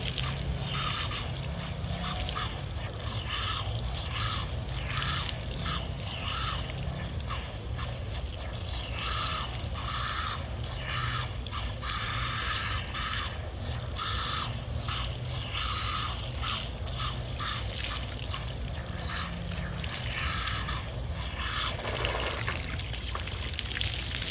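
Tap water runs steadily while hands are lathered with soap and washed, a continuous trickling and splashing with scrubbing noises, in a workshop setting where a generator is being serviced.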